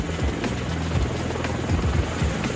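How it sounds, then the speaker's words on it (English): An American military Osprey tiltrotor aircraft in flight, a loud steady rotor throb with rhythmic low chopping pulses over a broad engine roar, close and continuous with no talking. "Only the American military operate the Osprey"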